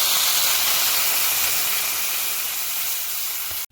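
Water poured into a hot pan of sautéed vegetables sets off a loud, steady rush of hissing steam that holds for several seconds, then cuts off abruptly at the end, close and with no voices.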